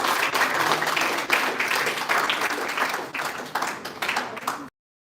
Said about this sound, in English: Can we have a round of applause for all of us?